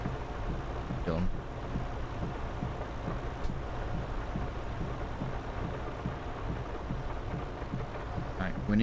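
Steady heavy rain falls in Farming Simulator 22, a constant wash of hiss with a low rumbling bed like distant thunder. A person speaks briefly at the start and again at the very end.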